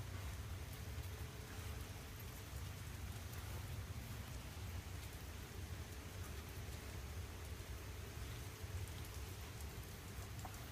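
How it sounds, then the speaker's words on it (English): Rain falls in a soft, even hiss that stays steady and faint from start to finish, with no talking. "Tired of the rain?"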